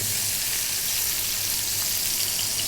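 Onion frying in reduced oil in a pan, a steady, even sizzle that holds at a constant level throughout, with no one speaking.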